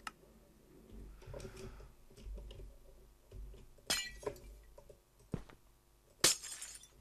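A block being broken in a Minecraft-style video game, heard as scattered small clicks and ticks followed by two sharp, bright breaking crashes, close and fairly quiet overall.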